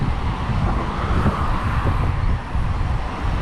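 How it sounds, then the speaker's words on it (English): Constant road traffic roar from a busy roadside, loud broadband vehicle rumble with wind buffeting on the microphone and no clear pauses. "ignoring the traffic and the noise of the traffic."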